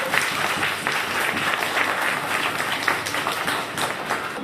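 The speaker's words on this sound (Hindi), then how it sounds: "इसको दर्द तालियां बजाओ ये बच्चों ने।" Young schoolchildren clap together in a classroom, a dense, steady patter of many small hands lasting throughout without pause.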